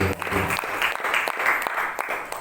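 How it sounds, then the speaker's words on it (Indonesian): Audience applause at an educator mentoring session in Situbondo, East Java: steady dense clapping fills the clip at a moderate level, with a brief voice at the start. "Kita beri tepuk tangan sekali lagi yang tepuk tangan."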